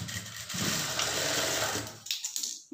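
A sewing machine stitches a blouse lining side seam in one steady, close whirring run of about two seconds, then stops with a few short mechanical clicks and knocks.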